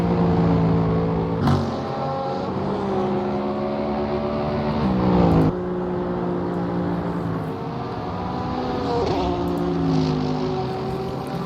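GT3 race cars from Porsche, Mercedes and Bentley run at Road Atlanta in a sim racing game, several engines droning and revving together, their pitches climbing and dropping through gear changes, with a sharp shift at about one and a half and five seconds.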